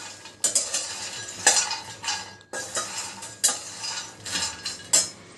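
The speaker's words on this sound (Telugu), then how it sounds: "దీంట్లో 2 కప్స్ మకానా దోరగా వేయించుకోవాలి." Two cups of makhana (fox nuts) dry-roasting in a pan on a stove, stirred with a metal spoon in rhythmic scraping strokes, with light clinks against the pan at a close, moderate level.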